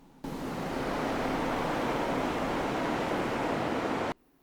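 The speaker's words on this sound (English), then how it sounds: "In the distance, Ulterion heard water crashing on the beach." Steady broadband roar of surf crashing onto a beach in a windy desert setting, holding constant for about four seconds before cutting off abruptly.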